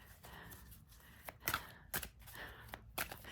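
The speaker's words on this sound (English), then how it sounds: "I'm not the greatest shuffler because keeps flipping cards because my hands are small." Oracle cards being shuffled by small hands, with soft papery riffles and several sharper snapping flicks as cards slip, heard close and fairly quiet.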